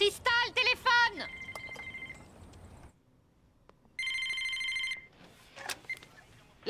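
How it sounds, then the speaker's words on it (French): A telephone rings in repeated electronic trilling bursts separated by a pause, loud and close, with other tones and voices around it. "Cristal, téléphone!"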